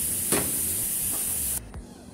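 A steady, loud hiss of steam venting from a pressure cooker after cooking chicken breast, then it cuts off abruptly, leaving near silence with a faint knock afterward.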